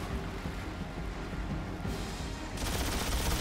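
In the X-Men Origins: Wolverine video game during a boat chase, gunfire rattles in a dense, continuous machine-gun fusillade that swells louder toward the end over a rumbling engine-like bed.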